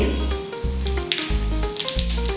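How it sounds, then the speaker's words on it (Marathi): Mustard seeds and cumin sizzle in hot oil for sprouted moong usal, a steady crackling hiss with scattered pops over a low tonal hum throughout. "तेल आपलं थोडंसं गरम झालं त्यामध्ये आपण घालून घेऊया मोहरी थोडेसे जिरे"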